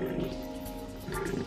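Lions of a pride roar low and close, a deep rumbling call swelling at the start and again near the end, with a voice faintly underneath.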